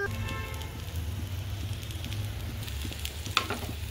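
Onions fry in a pan for a dry chicken dish, giving a soft, even crackling sizzle at low level, with one brief sharper clink near the end.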